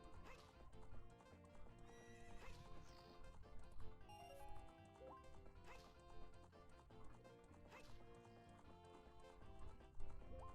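Epona's hooves clip-clop at a steady gallop in Ocarina of Time, quiet and rhythmic beneath layered game music with recurring bright chimes.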